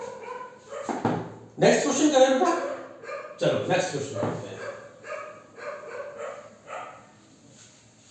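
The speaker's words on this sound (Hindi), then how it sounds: "बहुत सारे कुत्ते भौंक रहे हैं बाहर" Many dogs bark outside during a maths class, heard as distant, scattered barks under someone speaking close to the microphone.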